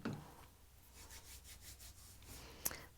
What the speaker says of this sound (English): ask them to rub it around a little bit in their hands